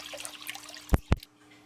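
Water is dumped into a brew pot while making a homebrew yeast starter, two quick, sharp splashes close together after a faint trickling background, then quiet.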